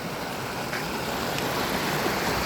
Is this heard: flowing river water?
yes